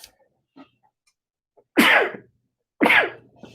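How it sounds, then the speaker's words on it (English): Two loud, close sneezes about a second apart follow a couple of faint sniffs in an otherwise quiet room. "I had to sneeze."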